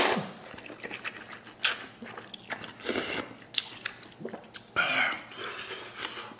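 Close-up slurping, biting and crunchy chewing of spicy luosifen river-snail noodles with pig trotters, tripe and omasum eaten from a small bowl, in loud irregular bursts with no talk.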